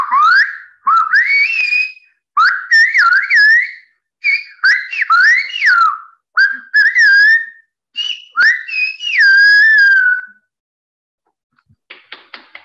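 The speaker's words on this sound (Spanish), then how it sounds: "os voy a silbar desde La Gomera" Silbo Gomero, the whistled language of La Gomera in the Canary Islands, performed as a long run of sharp, melodic whistled phrases that rise and fall in pitch, with brief pauses between them, close and loud, followed by faint taps at the end.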